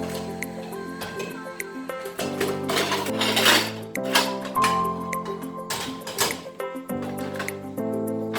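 Washed, dried dishes are stacked into a kitchen dish cupboard, making repeated close clinks and clatters of plates against each other over a steady background hum.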